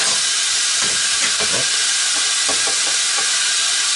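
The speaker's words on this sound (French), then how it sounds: "je vais mettre ma poitrine fumée, comme ça, de un petit côté." Smoked pork belly frying in a cooking pot beside beef for a beef sauté, a loud, dense, continuous hiss and sizzle close up with faint stirring scrapes and no voice.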